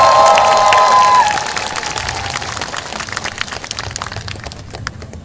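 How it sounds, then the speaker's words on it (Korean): A crowd at an outdoor political campaign rally in Uijeongbu, South Korea, breaks into applause with scattered claps and cheers, following a brief electronic tone; the clapping thins out toward the end. "큰 박수 부탁드립니다."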